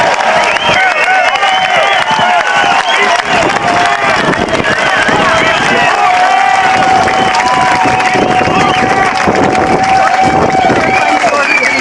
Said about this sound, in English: I'd ask you to all join with me in giving him a big round of applause.